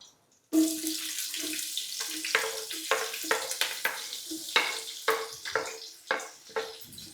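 Sliced onions sizzle in hot fat in a pan for ghee rice, with a steady close-up hiss broken by a series of rhythmic scraping stirs. No one speaks.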